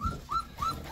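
A four-week-old Caucasian Shepherd puppy whimpers three times in quick succession, thin rising whines heard close up over low handling noise during deworming with a syrup.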